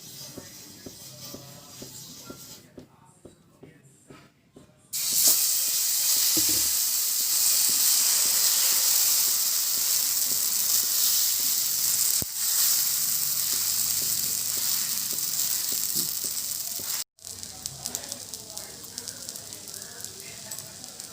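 Multigrain adai dosa batter spread on a hot pan gives a loud, steady, hissing sizzle that starts abruptly after a few seconds of quieter kitchen noise and continues evenly, briefly dipping once before settling.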